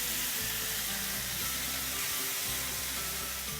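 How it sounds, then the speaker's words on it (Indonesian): Sweet soy sauce and Worcestershire sauce sizzle loudly in a hot stir-fry pan, a continuous close hiss with a low rumble underneath and no break, with no speech. "Dan saya suka banget kecap manis ini kita tumis juga ikut ya"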